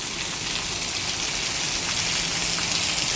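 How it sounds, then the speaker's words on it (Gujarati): Heavy rain falls without letup in Bamroli, Gujarat, a loud broad hiss of water pouring down on surfaces all around. "જોરદાર વરસાદ છે, જે તરામાર ચાલી રહ્યો છે"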